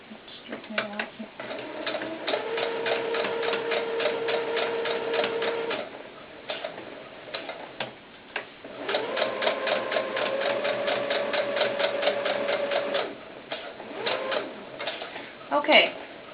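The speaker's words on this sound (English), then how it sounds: "So when we're sewing, we're going to stop right there on our sewing machine." A sewing machine stitches fabric for a doll's baseball cap in two long bursts of rapid, even needle clatter, separated by short pauses. Someone talks in between.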